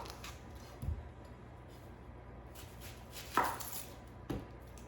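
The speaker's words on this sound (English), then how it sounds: "I'm gonna chop up my onion here really quick" A knife chopping an onion, a few sparse soft cuts against a board at low level amid quiet room noise.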